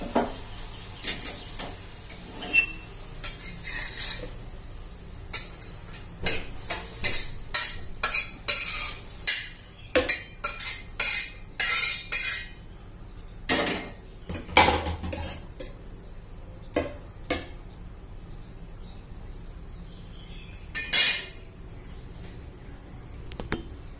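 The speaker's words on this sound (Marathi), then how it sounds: "भाजी काढून घेऊया, गॅस बंद करू।" A spoon scrapes and clinks against a pan as a dry spinach dish is scooped out, giving irregular close metallic taps and scrapes with brief pauses, and no talking.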